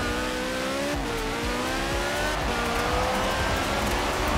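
A car engine in Forza Horizon 4 drones loudly and continuously, pitch climbing as it accelerates, with rough road and tyre noise underneath.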